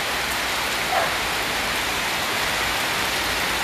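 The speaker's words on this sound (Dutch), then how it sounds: "Ja, het regent weer, Manoj." Steady rain falling on a rainy day in Suriname, a dense continuous hiss of drops on surfaces, close and even throughout with no voices.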